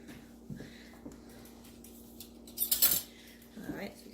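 A metal spoon clinks and clatters against other cutlery, a few short, sharp rattles with one louder jangle near the end, heard close up in a kitchen while burrito filling is prepared.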